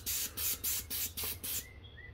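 A Graco airless paint sprayer coats a garage door from close range. Six quick, loud hissing bursts come in a steady rhythm, and the sound then cuts off into near silence.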